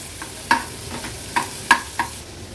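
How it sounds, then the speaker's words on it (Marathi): Chopped onion and garlic sautéing in a pan for an Agri Koli baby shrimp thali, with a soft steady sizzle broken by about five sharp spoon scrapes and clinks as the mixture is stirred, close and alone. "एक मीडियम साइजचा कांदा आपण ह्या लसणासोबतच शिजवून घेणार आहोत।"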